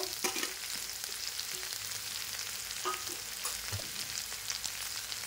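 Soybean chunks added to a frying potato and cauliflower curry, giving a continuous close sizzle with scraping stir strokes and a few brief clinks.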